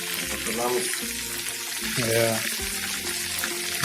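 Oil sizzles steadily as fish fries, with a few clattering stirs and scrapes in a pan; a low murmur of voices runs underneath.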